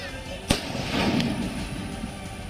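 Firecrackers set off by villagers near Bahraich to scare off man-eating wolves: one sharp, loud bang followed by a rumbling burst and a fainter pop, heard outdoors amid background noise.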